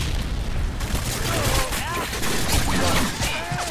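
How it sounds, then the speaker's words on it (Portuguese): Grenade blast in the Call of Duty video game, a dense booming burst amid ongoing gunfire and battle noise, loud and sustained over a few seconds. "Essa granada de quem?"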